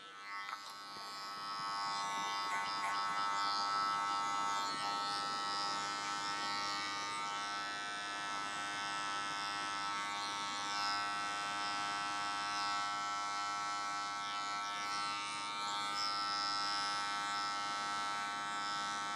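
Electric hair clippers buzz steadily through a short haircut, a close, continuous motor hum with slight shifts in pitch as the blades move through the hair and the lever is adjusted.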